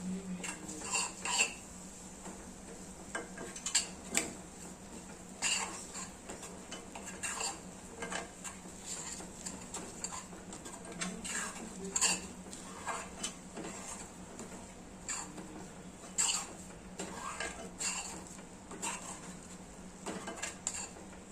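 A spoon stirs grated coconut into mango ladoo mixture in a pan, giving soft repeated scraping clinks at an uneven pace over a faint steady hum, with no talk.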